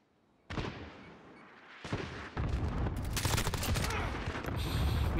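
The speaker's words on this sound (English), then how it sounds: "Enemy cluster strike incoming!" In the video game Modern Warfare, a cluster strike sets off booming explosions that start as separate blasts and swell into a dense, continuous rumbling barrage.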